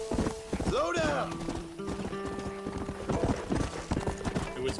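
Horse hooves clip-clop steadily through a video game ride, a brisk rhythmic trotting under game music, with a horse snort or whinny and a person talking over it.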